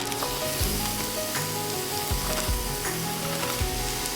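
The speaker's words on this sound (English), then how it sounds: "Okay, I'm going to add the steak in." Steak bites sear in a pan with butter and garlic, a loud close sizzle with spattering crackle and occasional thuds and scrapes as the pieces are moved around.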